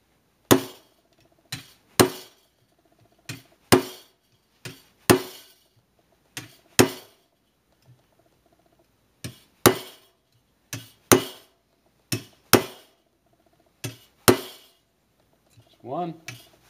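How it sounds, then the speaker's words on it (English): Chisel struck with a hammer into copper sheet to put a design on a copper flower, sharp metallic taps in an uneven rhythm, close, with short pauses and a faint voice near the end. "I'm just using a chisel."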